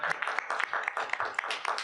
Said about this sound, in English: Let's give Tom a round of applause